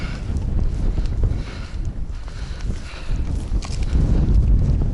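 Strong wind gusts buffet the microphone in a steady low roar, rising and falling slightly, with no voices.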